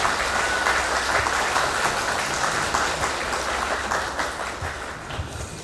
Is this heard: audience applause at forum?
yes